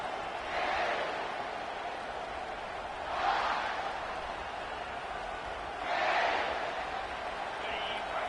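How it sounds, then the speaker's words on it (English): Stadium crowd in a college football video game, a steady distant roar that swells into three broad surges of cheering a few seconds apart. "And this crowd coming to life here, trying to help the defense get a stop"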